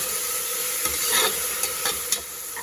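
Ginger garlic paste being sautéed in a pan for a soya chunks kurma, with a soft continuous sizzle and a few light stirring scrapes, fairly quiet and close with no talk.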